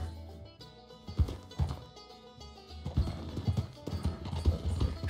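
A horse gallops in a video game, hooves pounding in quick irregular bursts that grow busier toward the end, loud and close amid game noise, with no talk over it.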